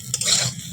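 Eggplant slices fry in a pan with neem leaves, giving a short close hiss of hot oil mixed with the scrape of stirring, loud and alone.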